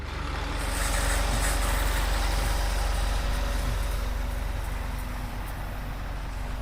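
Tractor-driven sprayer pump starts up and runs steadily, a loud continuous engine drone with a low rumble and broadband hiss, close by and holding constant.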